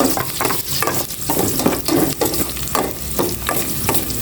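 Garlic dropped into hot oil in a pan, a loud, close, steady sizzle with rhythmic stirring scrapes every few tenths of a second and no voices.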